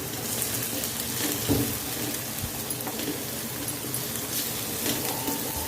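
Chopped capsicum and carrot sizzle steadily in a hot pan for a pasta dish, a continuous close crackle and hiss with no talking.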